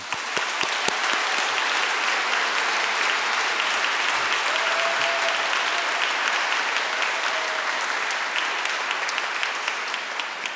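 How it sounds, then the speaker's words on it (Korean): Sustained, loud applause from a congregation honoring clergy at a 50th anniversary Catholic Mass, a dense continuous wash of clapping throughout with a faint voice briefly audible beneath. "그분들을 위해서 박수 부탁드립니다"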